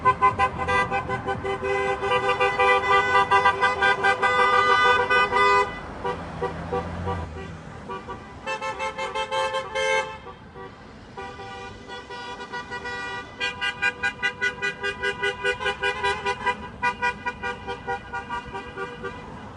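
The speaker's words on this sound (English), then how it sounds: "We got some more cars, some more signs going past us right now." Cars rolling past in a Staten Island thank-you parade, with repeated horn toots and long honks in bursts over the hum of traffic, some blasts overlapping, a few stretches quieter between volleys.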